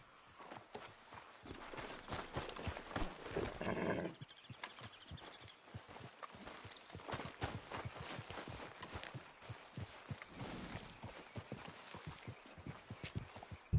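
Horse hooves clip-clop in the Red Dead Redemption 2 video game, a steady rhythmic run of hoofbeats at moderate loudness that continues through the whole stretch with some game ambience and no speech.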